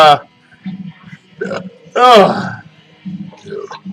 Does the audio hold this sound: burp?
yes